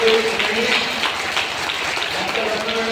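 An audience claps in a marriage hall after a professor's speech at a wedding function, the steady applause running the whole time with voices and faint tones mixed in.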